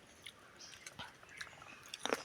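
A crunchy homemade salted snack, eaten by hand straight from the pan, gives a few faint, close bites and crackly chews over a quiet background.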